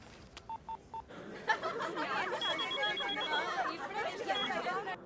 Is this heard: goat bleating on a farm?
no